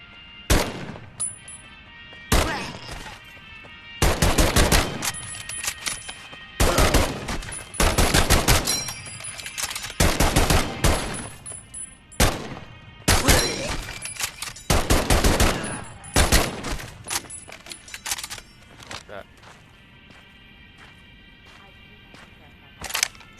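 M1 Garand rifle shots in the VR game Medal of Honor: Above and Beyond, with sharp, loud cracks fired singly and in quick clusters, separated by short quiet gaps.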